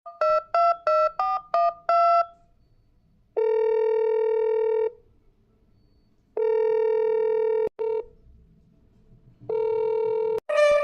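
A phone call is placed: a quick run of keypad dialing tones, then three long ringback tones separated by silent pauses, with no one answering.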